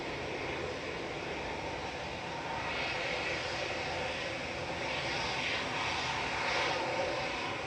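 A loud, steady aircraft engine roar at Manchester Airport, a continuous broadband rumble that holds constant throughout with no pauses.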